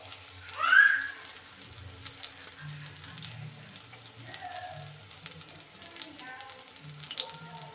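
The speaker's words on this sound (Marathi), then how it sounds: "आता हे टाकलेले आहे फ्राय करायला।" Marinated prawns frying in a kadhai, a soft, steady sizzle close by with faint stirring and utensil sounds, no talk.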